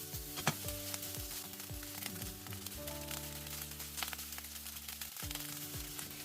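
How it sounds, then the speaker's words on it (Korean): Spam frying in a dry pan with no oil, a soft steady sizzle with occasional scraping stir sounds and light clinks, fairly quiet and with no talking. "스팸은 기름기가 많아 기름을 두르지 않고 볶아줄게요."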